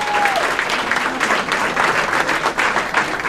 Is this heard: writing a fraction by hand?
no